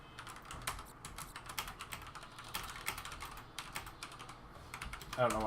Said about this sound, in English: I don't know why I'm typing